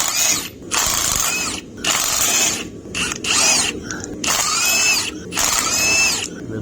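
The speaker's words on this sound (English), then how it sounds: "Now take your nuts off." A power tool spins nuts off cut-down studs during a lift kit install on a Chevy Silverado 1500, heard as six loud, close bursts of whirring with rising whines and short pauses between them.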